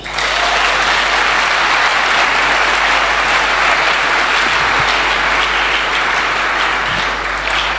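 A church congregation bursts into loud, sustained applause and acclaim, a dense wall of clapping with crowd noise running evenly throughout, close and strong.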